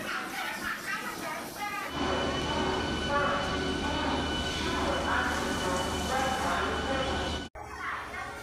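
A new 8-coach passenger train rumbles steadily close by at a busy railway platform with a continuous low drone and rattling, voices murmuring in the background, ending with a brief sharp cut.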